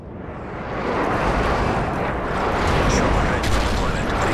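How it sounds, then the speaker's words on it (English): Continuous loud rumbling blasts from an airstrike in Call of Duty: Modern Warfare 3, dense and sustained for several seconds with no pauses. "Friendly airstrike on the way."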